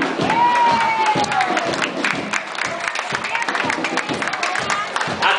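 A crowd applauding and cheering at a school class parade in Madureira, steady clapping with a rumble of voices and a whistle sliding down near the start, with a voice talking over it.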